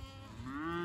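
A cow moos once, a short rising low call, close and clear in a farm yard where goats and cattle gather for feed.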